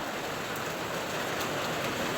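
Very heavy rain pours outdoors, a dense, loud, unbroken roar of drops hitting surfaces throughout, with no voices.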